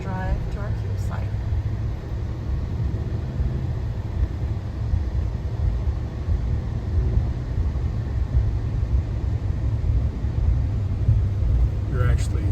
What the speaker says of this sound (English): we're going to show you our drive to our campsite.